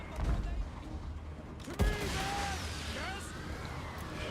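Empire siege tanks and mortars firing on savage orcs in the Total War: Warhammer battle game, with booming shots and explosions over rumbling battlefield noise, one heavy blast standing out partway through among distant firing.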